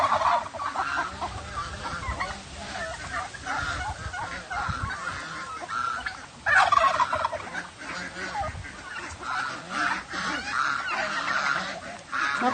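A flock of ducks squawks and honks close by in an outdoor feeding spot, a dense overlapping chorus of raspy calls with louder bursts throughout.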